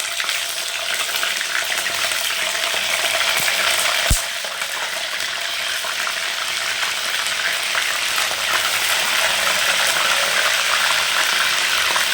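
Small tender brinjals frying in hot oil for ennai kathirikai kulambu, a steady dense sizzle that holds throughout with one brief sharp tap partway, close and fairly loud with no talking.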